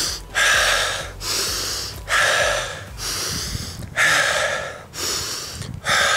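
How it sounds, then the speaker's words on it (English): Heavy recovery breathing after a sprint in soccer training: deep, loud gasping inhales and exhales repeat in a steady rhythm about once a second, close up and alone without talk. "when you're really tired, you want to breathe like that and you'll be able to recover much quicker"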